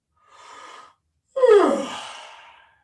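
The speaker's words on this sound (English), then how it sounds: "And yawn." A person yawns during a guided movement session: a soft breathy intake, a pause, then a louder, drawn-out open-mouthed yawn that trails off, close and alone.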